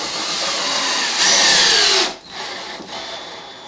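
A power drill whirs loudly for about two seconds, straining slightly as it drives a screw during a stair lift installation, then stops and restarts briefly with a softer whine.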